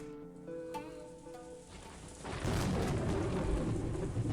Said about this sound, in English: Thunder rings in the distance. The rain continues pouring down hard.